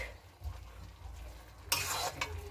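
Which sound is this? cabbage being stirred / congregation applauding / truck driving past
cabbage being stirred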